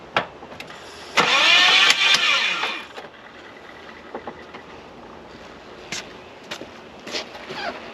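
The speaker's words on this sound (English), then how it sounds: "That clunking, my friend, is either stuck valves or bent push rod" Holden Commodore engine cranking over, loud and close for about two seconds, with a harsh clunking from stuck valves or bent pushrods, then a few sharp knocks and clanks against quiet garage background.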